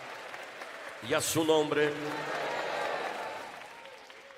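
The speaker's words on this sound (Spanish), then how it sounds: "de un fuerte aplauso para Cristo" A church congregation breaks into applause for Christ, a broad wash of clapping rising after a voice and tapering off over a few seconds, moderately distant.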